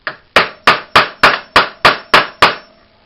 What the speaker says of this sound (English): Holding the hammer up near the neck there so I don't get too swing happy.